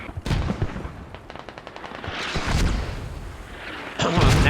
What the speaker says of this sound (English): You can see 30 mil shooting all the way from Orchard